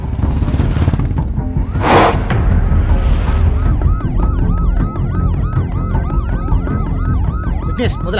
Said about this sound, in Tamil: விக்னேஷ், முதல்ல ஆம்புலன்ஸ் சீக்கிரமா ஹாஸ்பிட்டலுக்கு போக சொல்லு